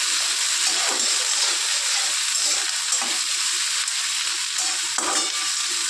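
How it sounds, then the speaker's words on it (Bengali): Capsicum and whole green chillies fry with fish pieces in a pan, a steady hiss of sizzling oil with soft periodic scrapes of stirring, fairly close and without talk. "এবার দিয়ে দেবো তোমার হচ্ছে ক্যাপসিকাম আর দেবো অল্প কটা কাঁচা লঙ্কা গোটা। এটা নাড়বো ভালো করে।"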